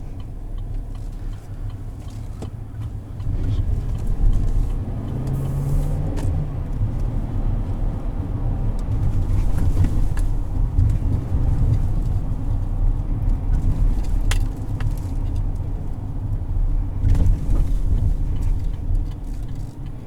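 A heavy-duty 2020 GMC Sierra 2500 HD pickup with a 6.6 liter V8 and 6-speed automatic, in bottom trim, drives with a steady low engine and road drone filling the cabin throughout, no talk.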